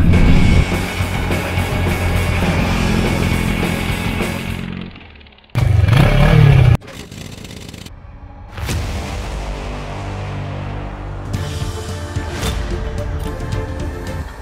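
A BMW R18 bagger, a big boxer-engined motorcycle, rumbles steadily and loudly at close range, briefly cutting out before a short burst of revving, then settling back into a lower idle.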